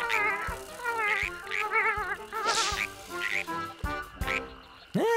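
A cartoon frog croaks in a series of warbling, wavering calls with short pauses between them, loud and close, alongside sharp clicks and a final rising squeak.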